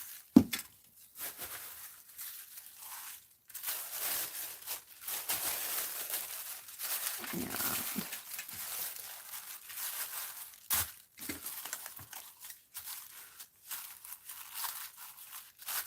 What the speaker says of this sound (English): Let's cut some margin off here for me.